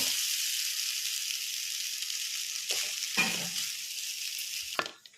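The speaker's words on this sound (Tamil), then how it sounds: "இப்போ இதை நல்லா வணக்கி விட்டுக்கலாம்" Garlic rice sizzles and fries in a hot pan while being stirred, a continuous loud hiss broken by a few scraping stirs of the spatula, with no talking.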